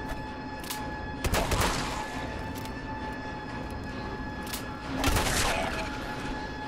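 Gunfire in the video game Fallout 4: two bursts of shots around the first two and fifth seconds, loud against a steady droning game background, no talk.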